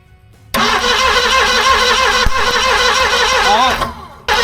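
A forgotten 1970 Ford Mustang fastback, sitting unused for about 20 years, cranks over loudly and steadily for roughly three seconds with a rhythmic starter churn, then cuts off; it does not catch and run.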